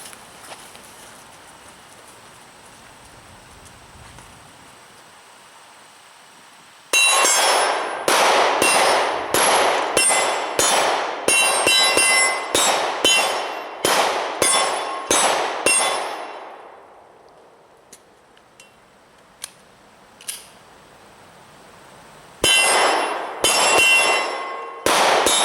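A Glock 26 pistol loaded with a Glock 17 magazine fires a rapid string of loud, sharp shots with ringing echoes, then pauses, with a few more isolated shots and a final quick burst.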